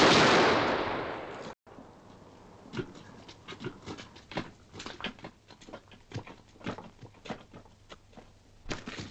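Firing squad volley in the 1946 film Great Expectations: a single loud, broad blast opens, then fades into scattered patter and crackling noises.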